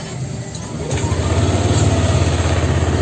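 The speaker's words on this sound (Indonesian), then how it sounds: "Kita nyalakan mesinnya." A 2020 Yamaha Nmax scooter engine turns over and settles into a steady, low idle that carries on close by with no talking.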